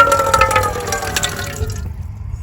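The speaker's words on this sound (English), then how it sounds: "Okay, so we have running water." Water splashes and pours from the kitchen tap of a 2014 Dodge Grand Caravan minivan camper, drips and trickles close by, then cuts off into near silence.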